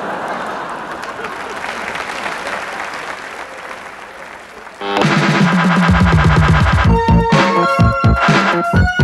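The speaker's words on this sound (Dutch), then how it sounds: "APPLAUS." Audience applause at a Dutch comedy stage show, a dense, sustained wash of clapping from a large theatre crowd for about five seconds, before loud music takes over.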